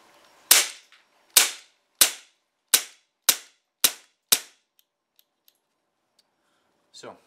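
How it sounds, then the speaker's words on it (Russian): Umarex Walther PPK/S air pistol fired at a target: seven sharp, loud shots in an even rhythm, then faint mechanical clicks and a brief rattle near the end. "передергиваем затвор обязательно в первый раз, ну и стреляем по мишени."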